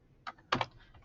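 Two quick keystrokes on a computer keyboard while a number is entered, a light tap followed by a firmer one, close and quiet.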